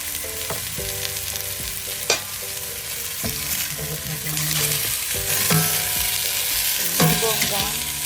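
Tilapia sizzling in hot oil in a pan for sinigang, a steady frying crackle with sharp scraping stirs and clinks of a utensil recurring every second or so, close and fairly loud with no talking.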